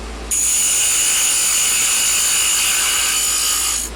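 A skew chisel's heel cuts into spinning wood on a lathe while a chess rook is turned, giving a steady, loud, bright whirring scrape that starts abruptly and holds evenly for several seconds.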